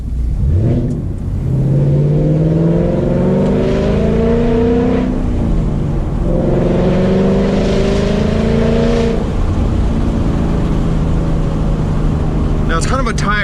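Ford Mustang GT with a Corsa Extreme exhaust revving on a backroad, the engine note climbing and falling in two long, loud pulls, with a brief higher rasp near the end.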